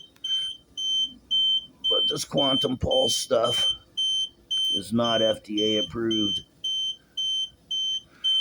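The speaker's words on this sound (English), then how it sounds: "that's the alarm on the concentrator because it's dropped below a half a liter." Oxygen concentrator low-flow alarm beeping steadily in a regular repeating pattern, about fourteen short beeps at a near, moderate level, continuing under and between a person talking.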